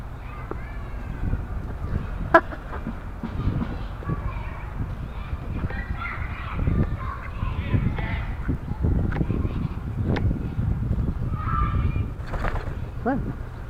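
Honks and fowl calls of a duck ring out intermittently in an outdoor setting, mixed with rustling, thumps and a few voices speaking nearby.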